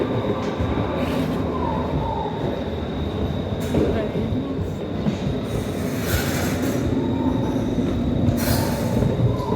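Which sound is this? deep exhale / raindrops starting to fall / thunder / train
train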